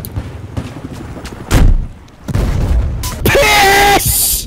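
Shotgun blasts in the video game Battlefield 3 land as a few heavy, booming shots among loud game noise, with a voice talking in between.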